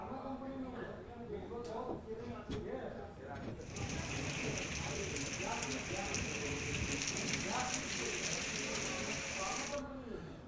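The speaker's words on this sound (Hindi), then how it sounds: "बुधवार को जगह जगह तेज बारिश और ओलावृष्टि हुई।" Heavy rain with hail pours down in Mussoorie during a thunderstorm, a dense, steady hiss that stays loud throughout, with a bright, constant drumming layer joining partway through and faint voices underneath.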